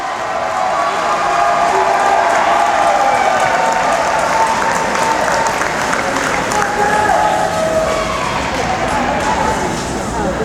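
A crowd at a wheelchair games event cheers and applauds a wheelchair athlete climbing a steep ramp, making a loud, continuous roar of clapping and voices that stays even from start to finish.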